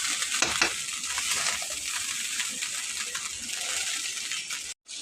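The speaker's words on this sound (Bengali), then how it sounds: "ফ্রাইড রাইসের সাথে মিশিয়ে নেব।" Sugar being stirred into fried rice in a hot pan, with a loud continuous sizzle and hiss and a few scraping strokes near the start, cutting out briefly near the end.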